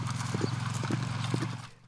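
Horses are driven in from an overnight pasture on a Nebraska Sand Hills ranch; a quick, regular clip-clop of hooves beats close by, joined by a short whinny, before fading at the end.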